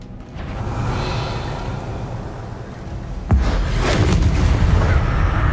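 A Bombarda blast spell in Hogwarts Legacy, a rumbling low background that breaks into a sudden loud explosive boom midway, followed by a dense crackling, debris-like roar that carries on to the end.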